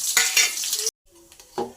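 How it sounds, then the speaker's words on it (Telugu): Whole spices tempering in hot oil in a home kitchen pan, a loud bright sizzle with stirring clinks, a brief cut to near silence, then a softer renewed crackle and sizzle. "ఆయిల్ హీట్ అయింది. ఇప్పుడు పోపు దినుసులు వేసుకోవాలి"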